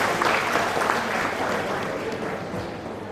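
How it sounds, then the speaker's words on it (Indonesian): An audience applauds at a regional development planning meeting in Madiun, East Java, with a sustained, dense wash of clapping from a crowd throughout. "Tepuk tangan untuk"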